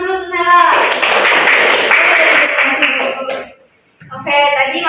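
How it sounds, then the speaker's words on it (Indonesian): Classroom of students clapping for a classmate, a burst of about three seconds of dense handclaps that stops briefly before voices resume. "Tepuk tangan dulu untuk Sela."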